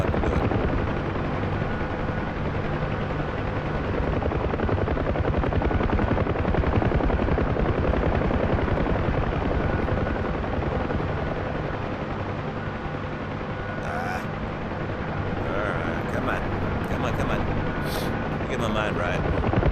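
A helicopter's steady rotor roar and engine whine fill the whole stretch, loud and close, holding constant as it hovers.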